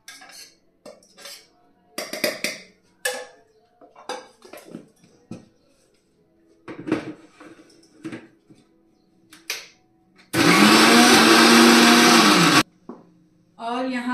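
Mixer grinder blending mango lassi with curd, mango, sugar and almonds, a loud steady whir lasting about two seconds near the end, after scattered kitchen clatter and clinks of jars and utensils.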